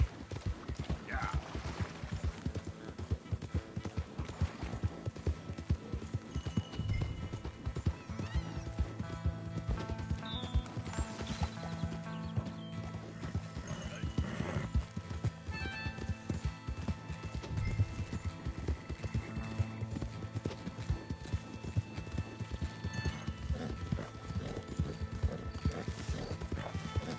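In Red Dead Redemption 2, steady clip-clop of galloping hooves runs throughout, loud and close, with occasional horse whinnies and snorts layered over a busy, dense background.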